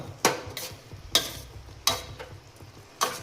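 Semolina is stirred into beetroot halwa in a pan, four or five evenly spaced scraping strokes of a spoon, close and clear with no speech.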